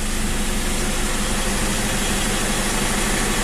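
The 2.5-litre 2KD diesel engine of a 2012 Toyota Fortuner runs at a steady idle, a continuous close, loud mechanical rumble with even vibration and no talk.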